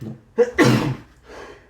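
A single close, loud sneeze with a quick intake of breath before it and a fading breathy exhale after, followed by a brief spoken word.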